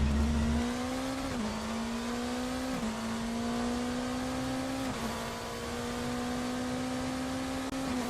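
A BMW race car engine in the racing game RaceRoom drones steadily with a high, sustained tone, dipping briefly at a few gear shifts, then climbing again, close and continuous with no voices.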